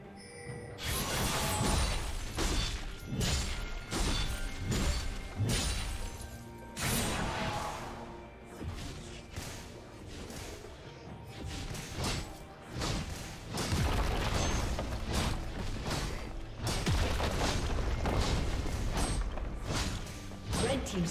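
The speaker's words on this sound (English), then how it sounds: "Red team's turret has been destroyed." A turret being destroyed in League of Legends during a Tryndamere versus Rengar top-lane match: a dense, loud run of crunching mechanical impacts and crashes over a steady wash of game sound, with no voices.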